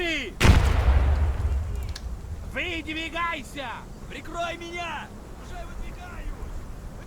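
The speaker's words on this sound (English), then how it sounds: "Let's throw a grenade that way, just to be safe." A grenade blast in a video game firefight: one sharp, loud explosion near the start with a rumbling tail, followed by quieter bursts of gunfire or debris and someone talking over the action.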